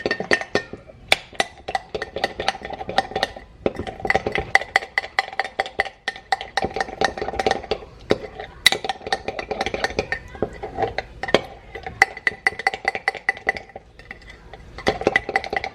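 Spoon stirring keto bread batter with an egg in a mug, steady rapid clinking and scraping against the sides, close and continuous throughout.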